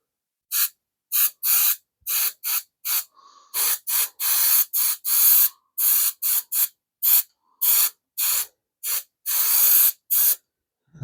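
Repeated short bursts of a spray adhesive can hissing, about twenty quick sprays in an uneven rhythm, loud and close with brief silences between, during assembly of a 1975 Plymouth Duster heater box.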